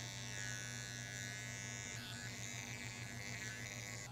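An electric hair clipper hums steadily during a fade haircut, a faint continuous buzz that shifts slightly in pitch partway through, with no talking.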